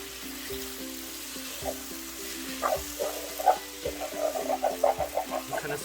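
Rice noodles and egg are stir-fried together in a pan for Pad Thai: a low sizzle runs under repeated scraping and tossing strokes that grow busier and louder toward the end.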